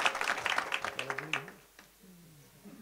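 At a Marathi kirtan gathering, a brief burst of scattered audience clapping sounds faint and somewhat distant, then dies away after a second and a half as a voice carries on.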